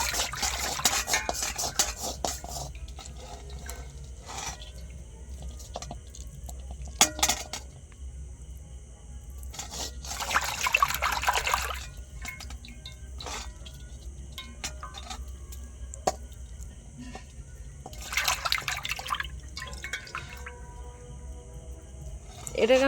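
A milk pot being washed with water, intermittent bursts of running water and clinking metal amid quieter stretches, with someone talking across much of it.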